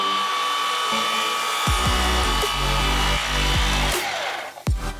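A power saw rips a wood board in half at 48 inches, its loud steady whine running through the cut with several sharp bites near the end.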